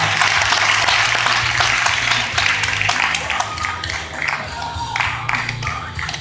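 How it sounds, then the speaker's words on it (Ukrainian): Audience in a hall at a 2014 Ukrainian women's fitness championship in Ternopil claps for a competitor's pose, a dense burst of applause that thins slightly and continues steadily with scattered individual claps. "Аплодуйте, кожна поза це аплодисменти."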